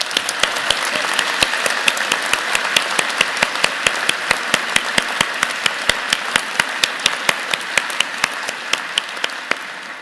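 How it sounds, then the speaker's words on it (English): Crowd applause at a university commerce graduation convocation, a dense sustained clapping from a large audience with sharp individual claps standing out, steady and loud for the full ten seconds with no voices over it. "round of applause."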